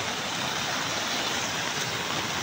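River flowing steadily with a constant broadband rushing wash, even and unbroken, moderately loud with no voices.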